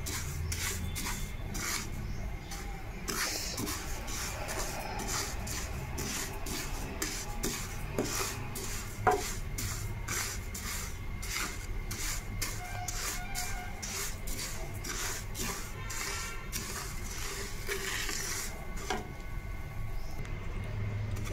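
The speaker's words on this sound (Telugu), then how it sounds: "పెనంలో పోసేసుకొని వేయించుకోవాలి." Sesame seeds roasting in a pan while being stirred: a steady dry rasping, rubbing scrape with repeated quick strokes and faint grainy rattles, close and moderately quiet, running without a break and without talk.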